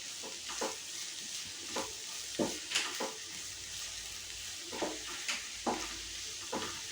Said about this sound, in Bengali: এবার আমি এই পেঁয়াজ কুচিটা এটার সঙ্গে ভালো করে ফ্রাই করব।